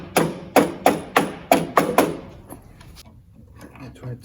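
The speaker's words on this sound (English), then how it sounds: "we take a plastic hammer here" A plastic hammer taps a stuck gasket on a VW Kübel engine, striking six or seven sharp, evenly spaced knocks close up, followed by quieter scraping and handling noises.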